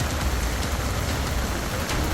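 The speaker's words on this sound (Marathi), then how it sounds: "मागील दोन दिवसांपासून रत्नागिरी जिल्ह्यात मुसळधार पाऊस पडत असून" Heavy monsoon rain falls in Ratnagiri district, a loud, dense and unbroken roar of drops hitting surfaces with no talking.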